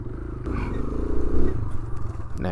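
A Kawasaki motorcycle engine revs during beginner wheelie practice on a slippery spot, one loud rising throttle burst held for about a second, then easing off, close by.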